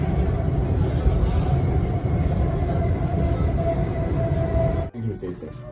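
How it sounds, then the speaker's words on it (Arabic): Metro train running on the line, a steady loud rumble with rail and wagon noise filling the clip before cutting off abruptly near the end, with people talking over it. "ده المترو هنا"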